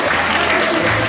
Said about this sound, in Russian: Я думаю, что можно еще раз гостей поаплодировать, потому что сегодня аплодисментов будет очень много.